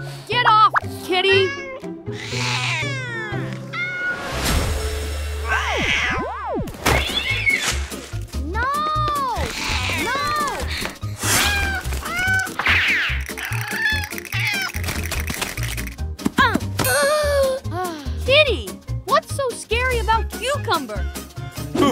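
Cartoon cat meows several times among busy animated-show sound effects, with clucking fowl-like calls mixed in and a voice talking over much of it.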